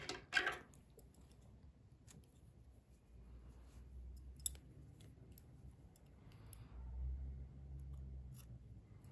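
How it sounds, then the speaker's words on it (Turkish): Scissors snipping crochet yarn, a single short close cut at the start followed by faint handling noises in a quiet room. "İpliği kesiyorum."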